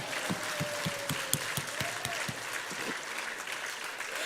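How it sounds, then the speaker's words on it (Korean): A church congregation at a Full Gospel service applauds in a steady, dense wash of clapping with a few sharper claps standing out, while a faint sustained tone carries over it. "주님께 영광의 박수 올리겠습니다"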